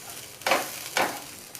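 Spice paste for a paneer curry fries in a pan, heard as two short bursts of sizzling hiss as it is stirred, close and brief over a quiet background.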